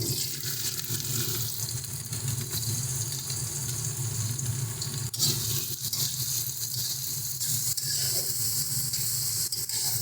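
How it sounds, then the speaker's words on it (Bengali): Carrots sizzle in hot ghee while fried rice is cooked at home, a steady, dense frying hiss that holds loud and close for the whole stretch, with occasional stirring scrapes and no voices. "দেখো এখানে ঘিটা গরম হয়ে গেছে এবার আমরা গাজরটা এর মধ্যে দিয়ে দিচ্ছি"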